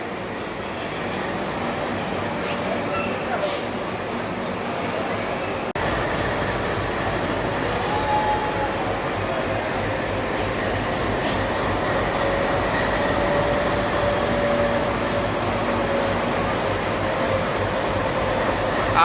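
Passenger train running from Sabarmati to Jodhpur, a steady loud rumble of rolling wagons heard from on board throughout, with faint wheel squeal and rhythmic track noise.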